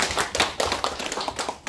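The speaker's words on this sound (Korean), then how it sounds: "박수로 맞이해 주십시오" An audience at a National Assembly forum claps in welcome, a brief burst of scattered, uneven handclaps heard close and fairly faint.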